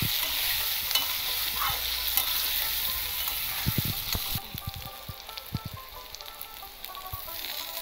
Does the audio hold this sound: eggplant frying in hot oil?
yes